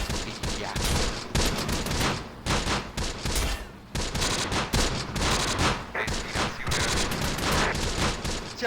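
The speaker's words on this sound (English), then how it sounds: "Fuoco nemico is enemy fire." Enemy gunfire in the WWII strategy game Close Combat: The Bloody First, loud bursts of rifle and machine-gun fire crackling in rapid overlapping volleys with brief gaps, sustained throughout.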